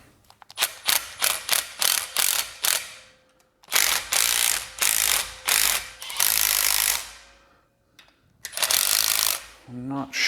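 Impact wrench driving bolts on a Kranzle KWS-700TS pressure washer during servicing: loud, close bursts of rapid hammering, first a quick series of short hits, then longer sustained rattling runs separated by brief pauses.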